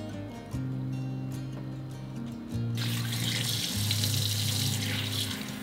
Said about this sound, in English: Wash the squid and take out the skin.